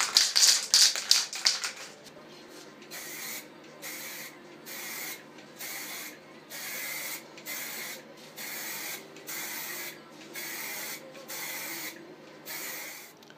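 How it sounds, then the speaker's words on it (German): Aerosol adhesion primer sprayed onto a plastic car bumper: an opening louder hiss, then about ten regular short bursts of spray separated by brief pauses, close and steady, with no voices. "Nehme ich mir jetzt hier so ein bisschen Haftgrund, den habe ich noch. Und dann sprühe ich damit einmal die Fläche ein."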